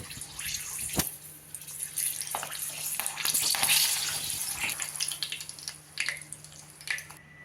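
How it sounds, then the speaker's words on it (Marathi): Slit green chilies frying in hot oil for mini batata vada give off a steady, close sizzling hiss with crackly bursts that swell in the middle, and no talking. "मिरची घालूया तेलात मध्ये फोडून घातली आहे मिरची"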